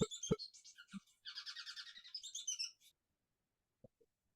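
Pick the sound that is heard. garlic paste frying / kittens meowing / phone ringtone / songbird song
songbird song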